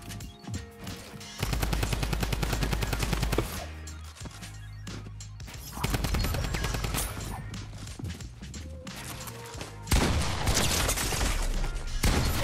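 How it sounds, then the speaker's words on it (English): Gunfire in the Fortnite video game, sustained bursts of rapid automatic fire in long loud stretches, separated by quieter gaps with game effects and occasional faint talk. "Is he getting shot at too?"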